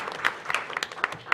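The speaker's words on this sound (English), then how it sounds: "why don't we give them a round of applause?" Brief scattered clapping from a small group at a city commission meeting, a handful of separate claps over a short moment, moderately faint.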